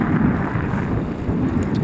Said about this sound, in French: on a encore un petit vent de l'océan